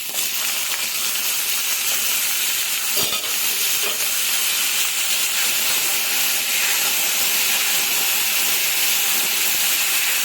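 Green peas fry lightly in a pan with a dense, even hiss of sizzling that carries on unbroken, plus an occasional soft clink of stirring about a third of the way in.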